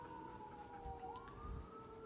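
Emergency sirens heard faintly at a distance: a single wailing tone dips and then rises again over low background rumble, with no talking.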